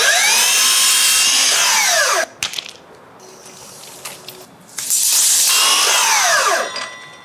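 A power saw cuts 1x3 MDF molding with a loud, close whine that rises and falls through one cut, pauses amid light clattering handling of the board, then screams through a second cut.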